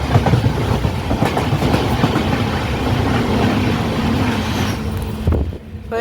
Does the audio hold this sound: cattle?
no